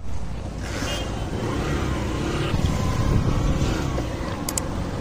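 A car pulls away and drives on at night in Mul taluka, its engine a low continuous rumble with wind noise around it and faint higher tones rising now and then.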